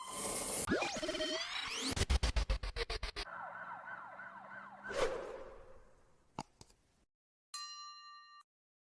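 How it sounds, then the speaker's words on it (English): A police siren sounds during a felony traffic stop in Illinois, wailing and yelping loudly up close, then a rapid burst of sharp clacks, a falling sweep, a couple of thumps and a final short electronic chirp before it cuts off. "Somebody shut off that siren."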